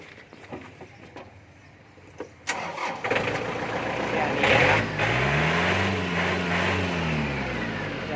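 A Yanmar EF 494T farm tractor with a diesel engine cranks and catches, then settles into a loud, steady idle close by, with faint clicks and handling noises before it starts.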